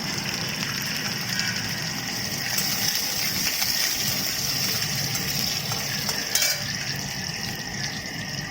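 Food sizzling and frying steadily in a pan while being stirred, a continuous close hiss with occasional scraping knocks and a brief louder clatter near the end.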